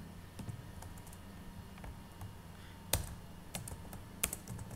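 Typing on a computer keyboard at a Mac or Linux terminal, with irregular clusters of crisp key clicks and a few louder taps over a faint background hum, no voices.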